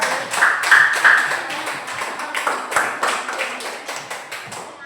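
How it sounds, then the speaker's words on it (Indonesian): Schoolchildren in a primary school classroom clapping for a winning group, a fairly close burst of uneven group clapping that pulses in waves and thins out toward the end. "Tepuk tangan untuk kelompok 4 ya."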